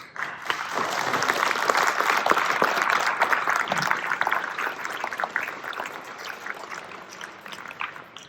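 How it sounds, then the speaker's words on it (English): Crowd at a gubernatorial candidates forum in Pendleton, Oregon, breaking into applause, a broad, sustained patter of many hands that swells early and then slowly thins out toward the end, with no talk over it. "And I think we all have a big round of applause."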